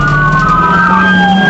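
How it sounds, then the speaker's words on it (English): Police car siren wailing loud and close in a continuous sweeping tone, with engine rumble underneath as the patrol car begins a pursuit. "the cop throws on his siren"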